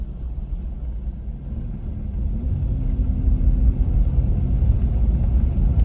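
An old Buick's engine running, a low steady rumble that swells slightly partway through, continuous and fairly close, with no talking.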